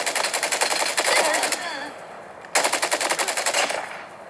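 AK rifle fire from a mobile shooter game played on an Oppo Find N3 comes in two loud, rapid automatic bursts separated by a brief pause, with a faint voice underneath.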